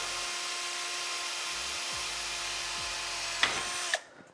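A power drill whirs steadily and close during a computer case teardown, changing pitch as it bites, then winds down and stops abruptly.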